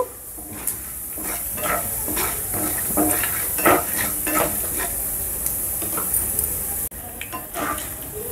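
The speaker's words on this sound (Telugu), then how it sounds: "మనం మీడియం ఫ్లేమ్లో ఈ పోపు దినుసుల్ని వేపుకున్నట్లయితే మంచి స్మెల్ వస్తుంది." Close sizzling of tempering spices and chana dal frying in a pan over medium flame, with frequent scraping stirs and light metallic clinks throughout.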